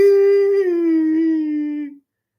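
A dog howls in one long, sustained tone that slides slowly downward in pitch, heard alone and fairly close for about two seconds before it stops abruptly.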